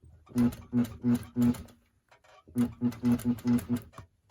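A sewing machine stitches a blouse collar in two quick runs of rhythmic mechanical thumps, four then about six beats, close and clear, separated by a short pause.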